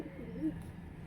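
Short, low cooing from high-flying Giribaz pigeons of an old bloodline, a soft murmuring phrase close by with a brief swell in the middle, set against a faint steady background.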